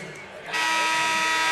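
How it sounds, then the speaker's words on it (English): A basketball arena buzzer sounds at halftime of a girls' Class A final, a loud sustained electronic blare cutting in abruptly after a quieter moment and holding to the end. "So there's the buzzer."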